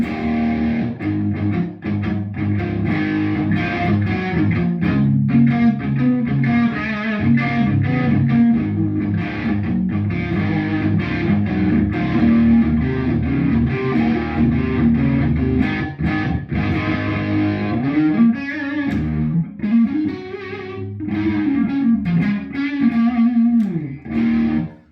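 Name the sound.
guitar through Rocktron Sidewinder with gain cranked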